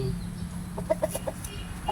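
A gamefowl chicken gives several short, close clucks in quick succession over a low background hum.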